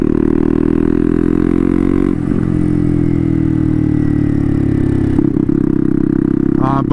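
A turbocharged Honda Grom motorcycle with a swapped CBR engine is ridden, giving a loud, close, steady engine drone whose pitch shifts slightly as the throttle comes on and off, with brief breaks around two and five seconds.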